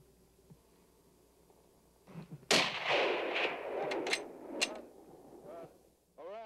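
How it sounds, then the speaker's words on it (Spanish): Hunting rifle shots out in open country, a sharp report followed by a couple more cracks and rustling, fairly near and loud over quiet outdoor ambience, with a brief voice at the end. "Dispara otra vez."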